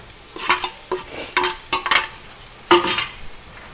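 Boiled, squeezed potatoes tipped into a pan and stirred over low heat for Garhwali aloo ki thichodi, with a run of close scraping, clattering stirs in uneven bursts and brief quiet gaps.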